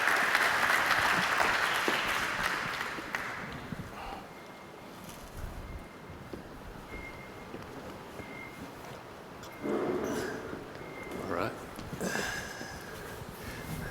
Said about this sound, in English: a warm round of applause for both of them